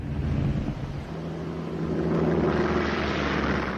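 A steady droning roar of low-flying American Devastator propeller torpedo bombers from World War II, swelling slightly louder as they pass overhead, with no voices.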